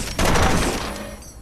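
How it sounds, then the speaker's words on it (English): Machine gun fire in the mech video game Front Mission Evolved, a short loud burst of rapid shots that quickly fades, heard alone. "Remember to fire your machine gun in burst to avoid overheating"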